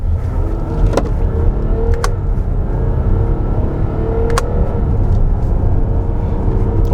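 An Audi Q7 45TDI quattro drives along a winding road, its cabin filled with a steady low engine and road rumble, with a few faint clicks breaking through.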